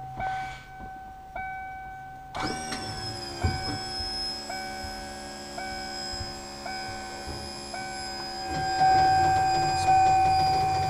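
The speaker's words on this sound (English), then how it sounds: "Hydraulic leveling, turn it on" A motorhome's hydraulic leveling system kicks on about two seconds in: a steady, fairly loud pump whine with a rich tonal hum that runs continuously, with small clicks and shifts and a slight rise near the end.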